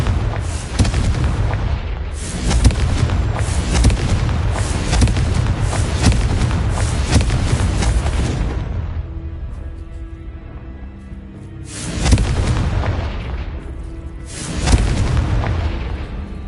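The Confringo explosion spell in Hogwarts Legacy goes off as loud booming blasts, a long run of rumbling explosions followed by two sharper bursts after a quieter gap.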